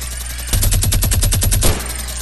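Gun firing in Fortnite, a rapid burst of roughly a dozen loud, close shots in even succession, lasting about a second, with no voices.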